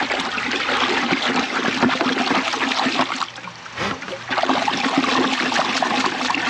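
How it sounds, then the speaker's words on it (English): Hot water pours and splashes into a container to mix with fertilizer, a steady loud rush of liquid with a brief dip in the middle before resuming. "I'm gonna mix some hot water with my fertilizer to get that mixed up"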